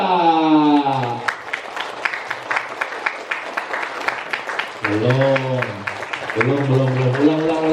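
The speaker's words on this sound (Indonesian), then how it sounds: "Kalau great itu tepuk tangannya luar biasa sampai agak panas tangannya ini ya" An audience claps hands together in dense, rapid applause that swells for several seconds, with voices calling out loudly at the start and again near the end.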